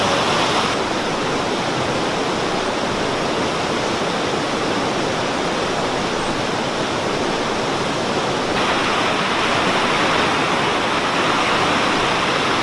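Water flows and splashes steadily around a colourful bend in a river, a constant broadband rush that stays close and loud for the whole stretch with no voices over it.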